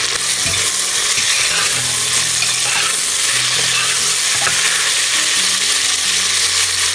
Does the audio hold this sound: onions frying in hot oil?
yes